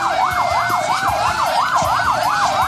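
A wailing ambulance siren sweeps rapidly up and down in a steady rising-and-falling cycle, loud and close, with no voices, in El Alto.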